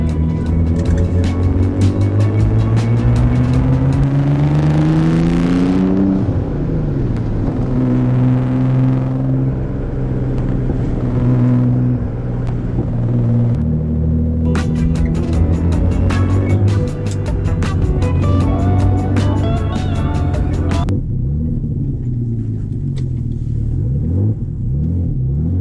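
Twin-turbo Nissan 300ZX on coilovers driving hard, its engine droning loud and steady with rising and falling revs as it accelerates and shifts, a continuous close rumble throughout with no talk over it.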